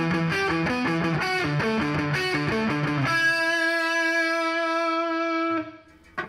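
Distorted electric guitar picked with the flat tip of an Attak pick, a busy run of chugging notes giving way to a sustained ringing chord that cuts off near the end; loud and alone.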